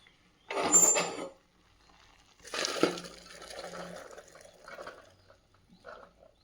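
Cooked chana dal being drained of its water for a sweet, with a splashy pour, a second longer gurgling flow and trailing drips, close and moderately loud without talk.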